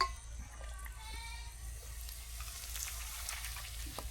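Puchka shells fry in hot oil with a faint, steady sizzle and light bubbling, plus a few small clinks and stirring taps in the background.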